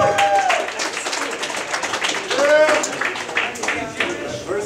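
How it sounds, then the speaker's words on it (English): Audience applause and clapping with cheers and whoops at an open mic, fairly loud and steady throughout. "Please give a round of applause for Mike Nieves."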